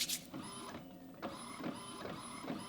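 A Wi-Fi printer prints a photo, its mechanism whirring and clunking in a repeating rhythm of feed strokes with a high whine, close and clear with no talk.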